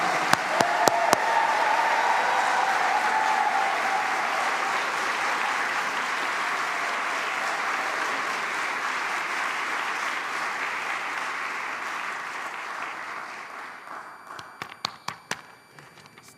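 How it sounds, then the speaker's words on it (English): A congregation at a celebration of life applauds in a long, dense, steady round of clapping that slowly thins out, ending in a few scattered claps. "Still clapping."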